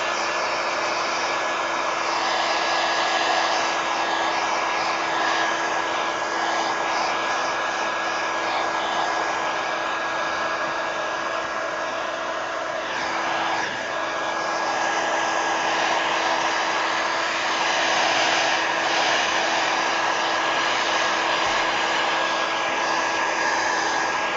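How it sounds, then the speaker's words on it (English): A heat gun blows continuously over a watercolor painting, a loud, steady whooshing drone with a faint tonal whine, running unbroken throughout. "I'm going to hit it with a heat gun"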